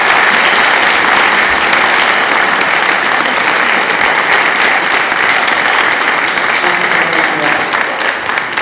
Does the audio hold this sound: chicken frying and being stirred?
no